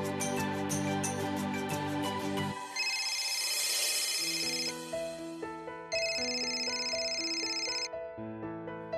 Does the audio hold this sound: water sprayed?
no